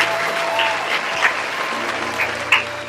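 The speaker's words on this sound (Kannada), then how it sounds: "ಒಂದ್ಸರಿ ಜೋರಾಗಿ ಚಪ್ಪಾಳೆ ತಟ್ಟಬೇಕು" Audience applause at a Mother's Day village gathering, a dense run of clapping from many hands lasting throughout, steady and fairly loud with a few sharper peaks.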